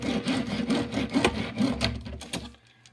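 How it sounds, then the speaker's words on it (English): Transformers Studio Series Lamborghini toy car rolling back and forth on a desk, with close, continuous scraping and rolling friction in repeated strokes. "Red backlights, rolls very smoothly. Here's how it sounds on my desk."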